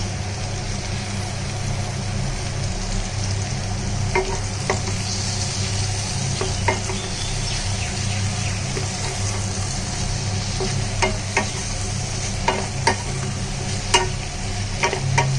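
Tomatoes fry in a pan for South Indian sambar, giving a steady close sizzle with scattered crackles and occasional stirring clicks, no voices present.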